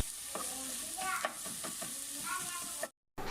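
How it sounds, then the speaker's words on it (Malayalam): Two medium onions, thinly sliced, sauté in coconut oil in a non-stick pan with a loud, continuous sizzle and the scraping of repeated stirring, cut off by a brief moment of silence near the end. "ഒരു നോൺ സ്റ്റിക്ക് പാത്രത്തിലേക്ക് ഞാൻ കുറച്ച് വെളിച്ചെണ്ണ ഒഴിച്ച് അത് ചൂടായതിന് ശേഷം 2 മീഡിയം സൈസ് ഉള്ളി ഇതേപോലെ കനം കുറച്ച് അരിഞ്ഞത് നന്നായിട്ടൊന്ന് വഴറ്റിയെടുക്കാം"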